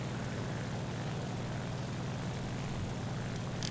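A La-5FN propeller fighter in War Thunder gameplay drones with a steady, loud engine roar throughout, a constant buzzing hum that never lets up.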